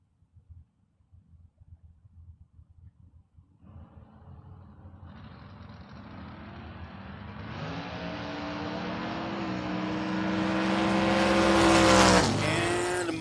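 A third-generation Chevrolet Camaro drag race car launches and accelerates hard, engine roar building steadily from a low idle rumble to a loud, rising high-revving scream that peaks near the end and then drops away.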